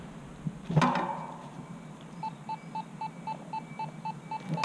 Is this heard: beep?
yes